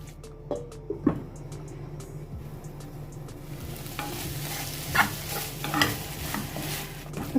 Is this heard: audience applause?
no